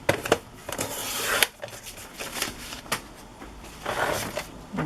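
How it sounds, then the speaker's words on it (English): Scissors snipping and paper rustling as glued flaps are cut off old textbook pages, close-up in irregular crisp bursts with crinkling between cuts and no talking. "I'll just cut the flaps off of this one."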